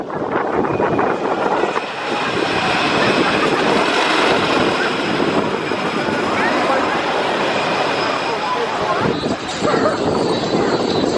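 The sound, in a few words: roller coaster train running at Kentucky Kingdom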